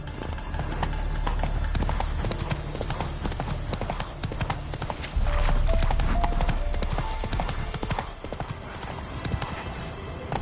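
Hooves of a horse gallop steadily in The Witcher 3 on PS5, a fast rhythmic clip-clop over game ambience and background music throughout.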